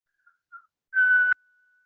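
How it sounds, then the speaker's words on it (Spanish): A person whistles into a microphone, two tiny faint chirps followed by a single short, steady, loud whistled note that cuts off sharply, in an otherwise silent room. "voy a silbar, voy a realizar la acción, el evento que quiero capturar"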